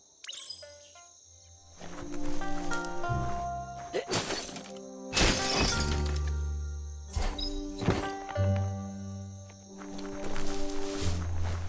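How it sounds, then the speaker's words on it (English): A wooden box is smashed to pieces in Biomutant, a run of loud crunching breaks and splintering crashes layered over game music and ambient creature sounds. "You shouldn't worry about smashing up the box."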